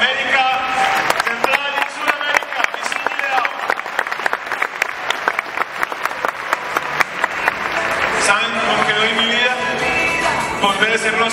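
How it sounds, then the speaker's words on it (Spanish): A convention audience in a large hall applauds steadily, the crowd clapping throughout while loud music and voices play over it. "Un aplauso para la gerente de América."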